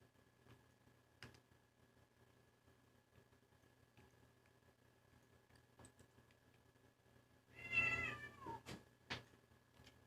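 Pet cats in a quiet room: after scattered small ticks and taps, one cat gives a single clear, wavering meow up close, followed by a few short faint chirps and thumps.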